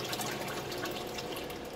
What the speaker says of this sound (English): my technique for avoiding this splashing around and this noise